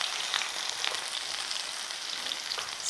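A Korean scallion seafood pancake with shrimp fries in a pan, giving a steady, close, bright sizzle with small crackling pops throughout.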